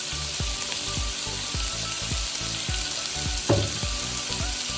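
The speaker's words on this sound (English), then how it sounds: "Keep stirring your food. Trust me, you got this. Let it go for a little bit." Shrimp and chicken stir fry sizzling loudly in a hot pan, with a steady hiss broken by rhythmic thumps and scrapes as the food is stirred, close and continuous with no talk.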